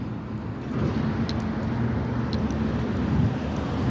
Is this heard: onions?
no